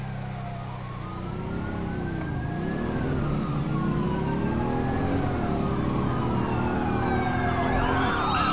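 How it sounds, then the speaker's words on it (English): Wailing sirens from several emergency vehicles in GTA V roleplay rise and fall continuously, overlapping, with a steady engine rumble beneath and growing louder throughout. "I hear sirens again."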